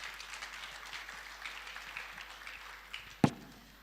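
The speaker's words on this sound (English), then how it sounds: "I think Mr. Musa deserves a better round of applause." Scattered applause from a summit audience in Nigeria, a soft, steady patter of many hands heard from a distance, with one sharp louder clap near the end.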